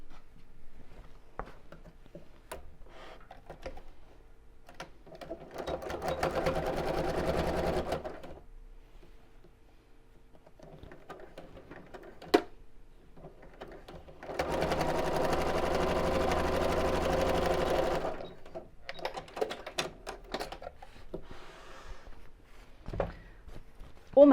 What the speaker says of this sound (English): we're just going to machine sew straight across the opening here